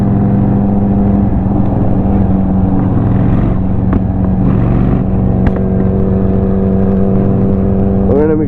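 Honda Shadow 750 motorcycle ridden through Edmonton streets, its engine a steady, close, continuous drone with wind rush and no break throughout.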